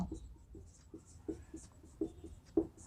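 Pen or chalk strokes writing equations by hand, a steady series of short scratching marks repeating roughly every half second, close and fairly quiet, with no talk.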